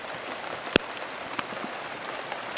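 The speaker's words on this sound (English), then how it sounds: "Getting rained on right now." Rain falling outdoors: a steady, dense patter on surfaces nearby, broken by a few sharper, louder drop hits.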